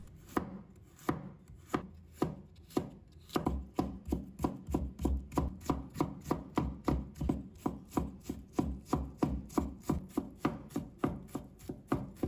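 Knife mincing fresh ginger on a cutting board, a fast, steady run of crisp chops repeating about three times a second, close and loud with no talk.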